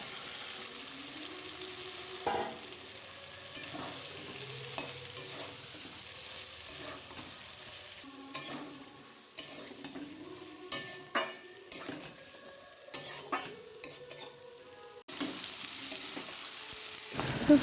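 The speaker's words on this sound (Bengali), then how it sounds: "তো এরপর দিয়ে দেবো ভেজে রাখা ফুলকপিগুলো। তো এটা দিয়ে কিছুক্ষণ কষিয়ে নেব।" Fried cauliflower florets and potatoes are sautéed with spices in a pan, a soft sizzle beneath irregular scrapes and taps of a spoon against the metal, close and without talk.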